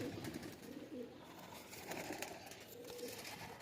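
A young Fulshira pigeon in a loft coos softly, a few low rolling coos repeated over a few seconds, close but faint, with no talk.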